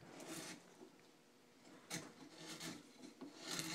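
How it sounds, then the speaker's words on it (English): A small wood carving tool surfacing a wooden piece, giving soft scraping and rasping strokes in irregular bursts, close and fairly quiet, with brief pauses between cuts. "I could have surfaced this faster, but the little tool gives it an interesting texture too."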